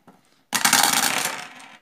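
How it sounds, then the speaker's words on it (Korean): Five dice tumble across a table for a board game, a sudden loud clatter of plastic cubes rattling and settling for about a second after a faint tap, with no talking. "자, 다섯 개의 주사위를 굴립니다."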